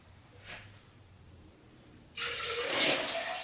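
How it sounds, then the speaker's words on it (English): Water is poured from a tap into Keto Chow powder in a bottle. A quiet stretch with a faint knock gives way to a sudden, loud rushing pour that fills the final second and a half. "I'm going to add a little bit of water"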